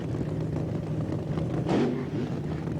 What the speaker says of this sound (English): It's amazing how they give those little blurps right now, how much stronger the car sounds than when it did the burnout.